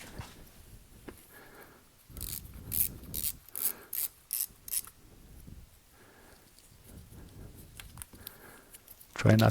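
Socket ratchet wrench with an E8 socket loosening bolts on a 2008 Mercedes C300 engine, bursts of quick ratcheting clicks in several short runs at close range, with faint background noise between.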